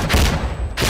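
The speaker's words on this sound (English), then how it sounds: "how are these guys using shotguns like fucking sniper rifles?" Shotgun fire in the video game Insurgency: Sandstorm: two loud, close blasts about a second apart, each a dense, full-range burst.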